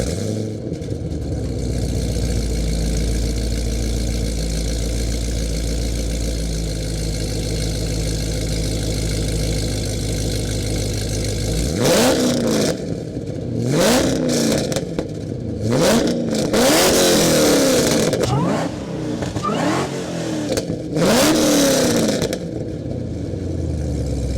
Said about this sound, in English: This has such a deep and throatier exhaust sound than mine.